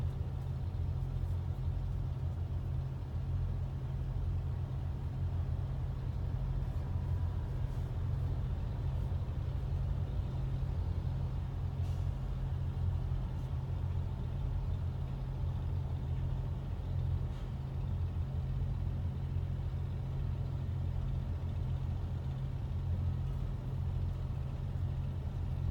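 Trucks pull in to offload sand boxes at a cramped site, with a steady low engine drone and rumble running throughout, a few faint clicks and hisses on top and no voices.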